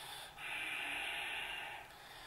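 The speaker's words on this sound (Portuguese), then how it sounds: "Para aumentar a temperatura do corpo, vai fazer respiração Ujjayi. Fecha um pouquinho a garganta." Ujjayi yoga breathing with the throat slightly closed makes one long, soft, hissing breath. It is close and quiet, holds steady for about a second and a half, then eases off, with no talk.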